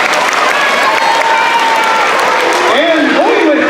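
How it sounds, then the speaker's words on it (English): Audience applause at a community meeting, steady clapping throughout with a voice talking over it near the end. "let's give her a round of applause anyway"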